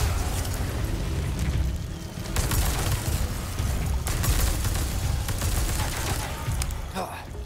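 Sustained gunfire in Resident Evil 4 Remake, dense booming shots and bursts filling the whole stretch at high loudness, with heavy low rumble throughout and brief sharper cracks near the end.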